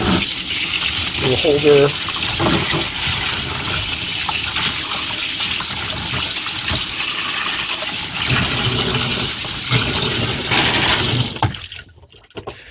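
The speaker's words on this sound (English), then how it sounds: "I'm going to rinse this off." Running water gushes steadily as a Shark upright vacuum filter is rinsed under a tap, a loud continuous splash with brief knocks and a short spoken phrase, cutting off near the end.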